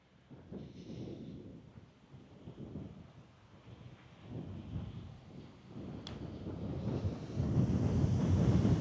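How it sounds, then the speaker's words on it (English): Blustery wind gusts across an open golf course, rumbling against the microphone in uneven surges that swell louder toward the end. "It is very blustery out here today."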